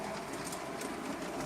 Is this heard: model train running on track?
yes